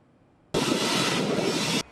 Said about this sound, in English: That's the first high-speed train in Indonesia and all of Southeast Asia.